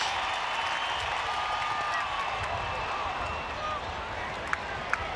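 A packed baseball stadium crowd at a Cardinals–Giants game yells and cheers in a sustained, moderately distant roar, with a few sharp claps or thuds popping out near the end.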